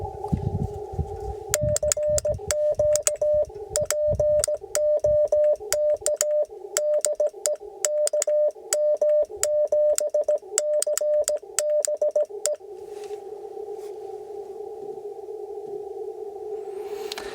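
Rapid on-off tones of a Morse code (CW) amateur radio signal keyed in bursts over a steady hiss of static, received outdoors in Coronado National Forest, then the hiss continues alone after the keying stops.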